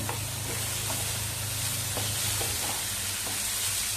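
Pumpkin stir-frying in a pan, a constant close sizzle with soft, regular scraping strokes as it is turned over, no voices.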